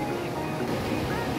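Sea waves at Ladghar beach wash in as a steady, broad roar, loud and continuous with no distinct breaks and some wind-like rush over the surf.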